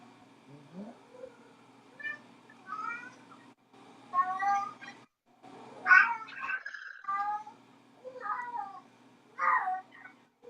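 Several cats meow again and again in short, wavering calls, close by and fairly loud, with brief quiet gaps between them and no one talking.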